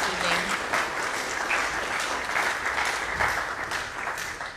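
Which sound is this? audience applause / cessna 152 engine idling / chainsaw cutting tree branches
audience applause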